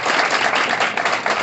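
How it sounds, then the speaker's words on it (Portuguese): Steady applause from a wedding crowd, dense and loud throughout, with no voices standing out. "Salve de palmas."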